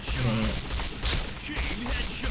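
Single shots from a P90 in the shooter game Point Blank fire in quick, slightly uneven succession, each a sharp burst over a dense layer of other in-game noise.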